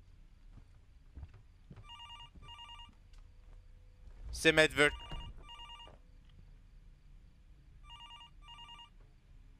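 Repeated double-pulse telephone rings sound at moderate volume in the video game Fears To Fathom, spaced across a quiet scene, with speech and a louder burst of voices in the middle.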